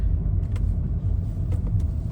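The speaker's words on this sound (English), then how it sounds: "I'm driving a Shenzhen Edo Plus 2025" Changan Eado Plus 2025 sedan heard from inside the cabin while driving on an early-morning Riyadh commute: a steady, continuous low road and engine rumble with a few faint ticks over it.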